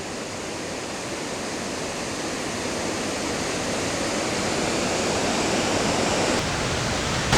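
The Presque Isle River waterfall in Michigan pours over rocks in a dense, steady roar of rushing water, broadband and unbroken, growing slightly louder toward the end.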